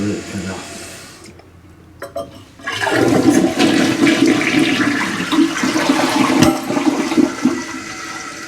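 A newly repaired household toilet flushes with a loud, steady rush of water that starts abruptly after a quiet moment and keeps swirling and gurgling close by for several seconds.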